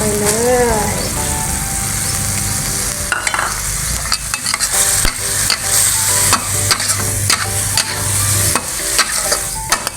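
Pork stir-frying in a pan with green onions being added: steady loud sizzling with repeated scrapes and clacks of a spatula stirring, while someone speaks over it.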